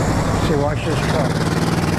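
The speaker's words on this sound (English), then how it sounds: "watch this truck." Truck moving through traffic during an e-bike commute, its engine and road noise a steady broadband rumble with a brief low growl, heard alongside nearby traffic.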